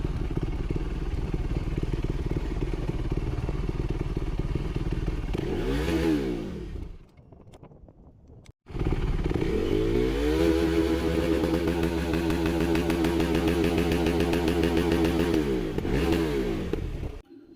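A KTM RC 390 motorcycle engine revs loudly and close, with rising and falling throttle sweeps, a brief drop to a quieter idle near the middle, then sustained high revving with repeated climbs.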